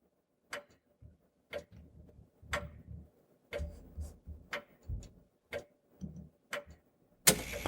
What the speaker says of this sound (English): The clock chimes, signaling your bedtime.